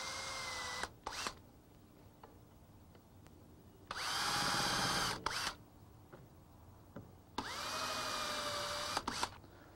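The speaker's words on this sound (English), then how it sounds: "take a drill with a long bit, and start some holes." A power drill with a long bit bores holes into a board clamped near a vise, giving three loud, sustained whirring bursts separated by quieter pauses with small clicks and handling noises.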